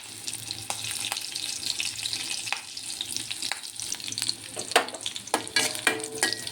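Grated coconut fries in a pan with a steady close sizzle, broken by intermittent scraping and stirring clicks that grow busier toward the end.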